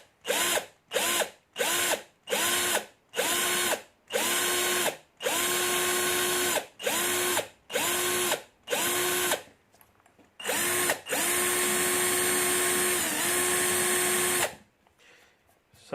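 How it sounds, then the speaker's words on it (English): A power drill bores out the plugs of an Abus lock in repeated loud bursts, short whining pulses first and then longer sustained runs, with brief pauses between each and a quieter stretch at the end. "now I'm going to drill out these plugs"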